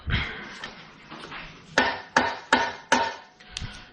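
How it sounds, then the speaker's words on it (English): Mallet striking a component of a 2011 Avanti Vivace bicycle during stripdown: four sharp, evenly spaced close knocks after some quieter handling noise, with a fainter tap at the end. "Let's go hammer onto that one. Mallet. Nice, gentle-ish mallet."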